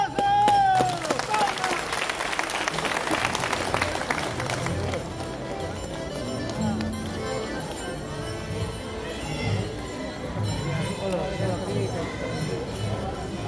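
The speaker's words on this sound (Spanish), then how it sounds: "¡Aplausos!" Clapping from a crowd at a gathering in Lima for the Carhuapata district cause, brisk at first and then thinning into a mix of voices and background noise.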